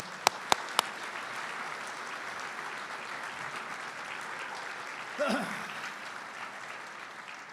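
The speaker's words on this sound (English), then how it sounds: "Another round of applause before they escape for the President's home." Sustained applause from a dinner crowd at a 2022 awards evening, broad and even clapping after a few sharp initial taps, with a brief voice rising over it toward the end.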